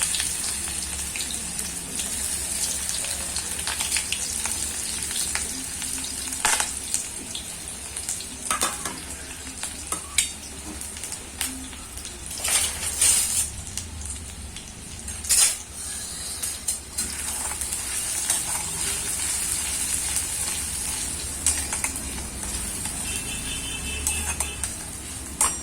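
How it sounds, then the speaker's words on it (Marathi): Chopped onion frying and sizzling in hot oil in a pan for Maharashtrian matki dal amti, a steady close hiss with occasional stirring clicks and scrapes, no talk. "कांदा आपल्याला छान असा परतून घ्यायचा आहे तेलात।"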